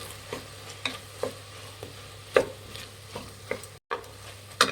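Vegetable biryani with fresh coriander leaves is stirred in a pot, a run of soft scraping strokes at a steady pace over a faint sizzle and low hum, close, with a short dropout near the end.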